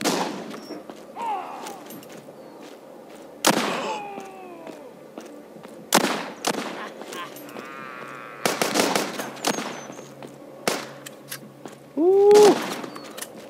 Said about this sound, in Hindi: Whoa, shotgun mar raha hai.